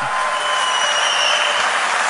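A crowd claps steadily and loudly throughout at the WorldSkills 2023 opening ceremony in Lyon, a dense wash of applause with no pauses and no voices standing out.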